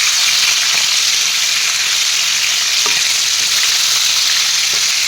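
Fish frying steadily in a pan of hot oil, a loud, continuous sizzle with faint stirring clicks and no talking.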